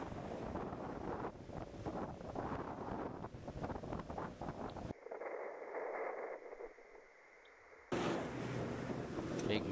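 Strong gusts buffet the microphone beside a dirt-road rally stage through wine-growing country, a loud, rough, continuous rumble that briefly drops away before surging back.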